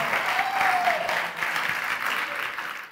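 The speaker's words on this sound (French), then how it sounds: "je vous demande d'accueillir sous vos applaudissements ce soir" An audience applauds as a guest is welcomed on stage, a full, sustained burst of clapping that fades slightly toward the end, with a voice briefly audible over it.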